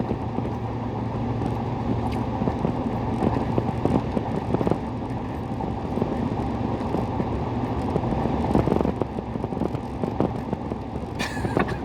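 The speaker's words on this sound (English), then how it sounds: "It is super windy. I'm driving home." Steady roar of a car on the road with heavy wind buffeting around it, the car being blown across the road, continuous and loud throughout with occasional gusty bursts.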